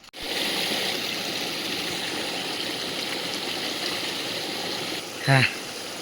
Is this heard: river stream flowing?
yes